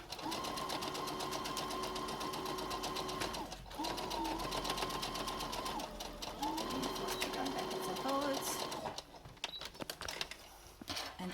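Sewing machine running steadily in bursts, zigzag-stitching around three sides of a three-layer cloth face mask, with a few short pauses and a quieter ending; someone speaks at moments over the whirring.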